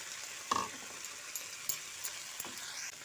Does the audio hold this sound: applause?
no